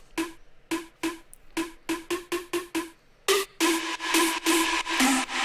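An unprocessed synth pluck sample from an FL Studio big room psy trance project plays a run of short, dry plucked notes, then quickens into denser repeated hits.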